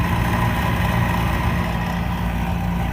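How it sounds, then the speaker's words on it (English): A rattling inducer fan on a Carrier gas pack furnace that is heating, giving a steady, loud mechanical hum with a constant low rattle and no break. "That inducer fan is rattly."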